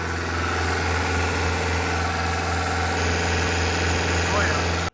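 A Yugo 80s European hot hatch idling steadily just after its first start, a low continuous engine hum with a slight exhaust leak, close and constant before cutting off at the end; a voice is heard faintly under it.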